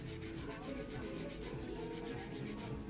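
Steady rhythmic rasping of a nail file working acrylic dip-powder nails, quick back-and-forth strokes close up and continuous, with no talking over it.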